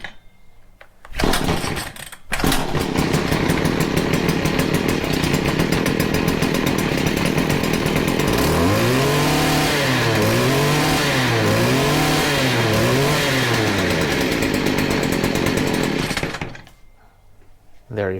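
A small two-stroke engine tool, freshly fitted with new fuel lines, a cleaned carburetor, a new spark plug and fresh fuel, fires up after a brief pull and runs loudly and close, with several rising revs before shutting off.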